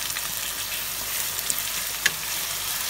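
Ginger garlic paste hits browned onions frying in oil for a Pakistani chicken biryani, giving a steady loud sizzle with a couple of brief sharper crackles and no voices.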